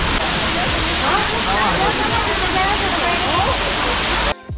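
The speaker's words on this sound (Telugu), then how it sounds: "ఇవే బక్తాంగ్ వాటర్ ఫాల్స్ బాగున్నాయి కదా చూడడానికి" Bakthang Waterfalls near Gangtok roar as a steady, loud, broadband wash of falling water that fills the scene without pause, cutting off sharply at the very end.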